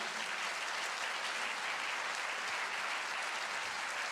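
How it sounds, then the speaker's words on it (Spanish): A church congregation applauds during a sermon, producing a dense, even wash of many hands clapping that holds steady and loud throughout without a break. "¿Puede darle un aplauso ahí al Señor?"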